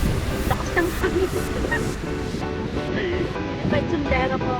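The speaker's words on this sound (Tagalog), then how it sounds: "Lakas ng hangin." Strong wind gusting and roaring continuously close to the microphone, a broad noisy rush that stays loud throughout.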